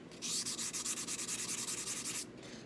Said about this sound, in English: I like to use the highest grit sandpaper I have, so I'm using 220.